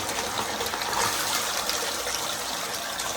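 Water runs from bathtub plumbing during a home repair, a steady, loud hissing rush of flow that stays constant throughout with no voices over it.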